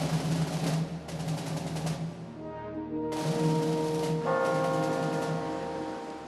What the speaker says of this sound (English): the sounds of bells rang across the city of Seoul